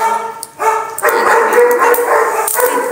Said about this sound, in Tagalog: Ito ang alaga ko, guys. Si Colleen Labrador.